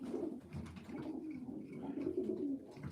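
A pigeon coos steadily in low, soft repeated phrases, close by, over a quiet rumbling background.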